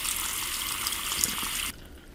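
Water running from a tap into a sink while rinsing off cleansing balm, a steady close hiss and splash that cuts off abruptly near the end.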